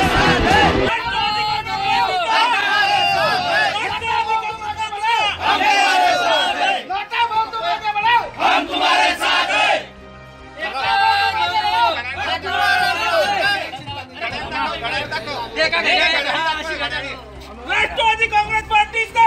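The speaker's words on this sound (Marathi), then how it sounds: "एकनाथ खडसे यांनी घेतलेल्या निर्णयाचे स्वागत करत जळगाव येथे खडसे समर्थकांनी" Khadse supporters celebrating in Jalgaon: a loud crowd chanting and shouting slogans in unison, in rhythmic bursts with brief pauses between.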